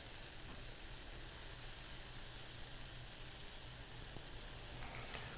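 Pancake batter sizzles steadily on a Lodge carbon steel griddle set over copper diffusers, a continuous close hiss with no pauses or voices.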